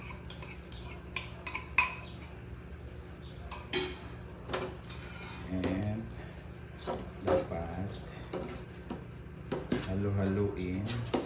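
A utensil scrapes and clinks against a cooking pot in a home kitchen while an egg dish with malunggay simmers, giving irregular metallic taps and stirs close by. Someone talks over the stirring.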